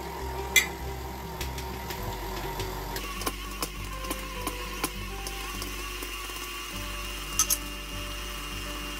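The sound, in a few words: electric mixer mixing frosting with confectioner sugar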